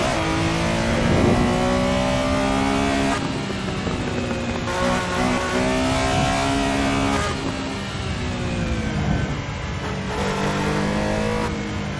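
Flat-six engine in Assetto Corsa howling through the gears on LA canyon roads, loud and close, with repeated revving climbs and brief dips at each shift, steady and alone without talk.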